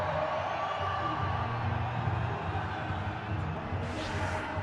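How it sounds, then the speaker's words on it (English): Crowd noise fills a cricket stadium with a steady, distant roar of cheering and whoops that holds throughout. "The cheering continues."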